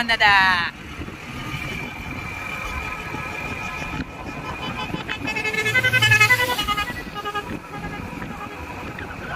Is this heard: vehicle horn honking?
yes